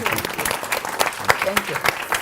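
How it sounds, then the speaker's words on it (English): An audience at a primary health care panel applauds, sustained close clapping from a crowd for the whole short stretch. "I hope you can give them a round of applause for everything they've said"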